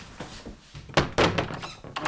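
A door fitted with a hands-free Ulna handle opens and closes, giving a soft thud followed by a firmer thunk and rattle, all close by and with no talk.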